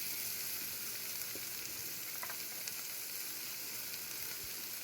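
Crawfish tails, sliced sausage and tender pork chunks hit a pan of half-cooked Cajun jambalaya vegetables, giving a steady, dense frying sizzle with faint stirring clicks, continuous and fairly quiet throughout.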